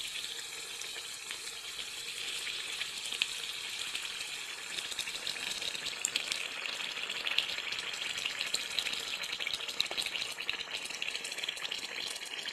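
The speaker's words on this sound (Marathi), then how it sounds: "दोन्ही साईडने खरपूस आपल्याला तळून घ्यायचा आहे." Mutton vadas deep frying in hot oil, a dense, even bubbling hiss that runs steadily throughout at moderate volume, with no voices.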